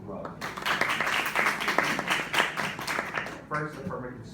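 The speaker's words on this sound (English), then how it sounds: "Give them a round of applause." Audience applause for debate teams at a school debate event, steady clapping from many hands that fills the room before fading, with some voices mixed in.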